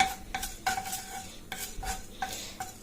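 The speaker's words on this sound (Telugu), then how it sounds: "మెంతులు కాస్త దొరగా వేయించుకోవాలి" Fenugreek seeds dry-roasted in a kadai for a raw banana pulusu, a spoon scraping and clinking against the metal pan in quick repeated strokes over a faint crackle.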